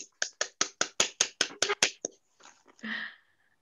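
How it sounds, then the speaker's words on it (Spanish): A small audience at a Spanish lecture on feminist writers gives a short, sparse round of clapping: about a dozen distinct, fairly close claps at a steady rhythm. They die out after two seconds, followed by a faint murmur. "Hay aplausos."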